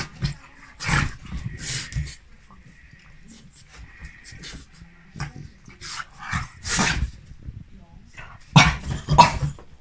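Boisterous young dog giving several loud barks and higher whimpering cries in bursts, close by indoors, with a person talking in between.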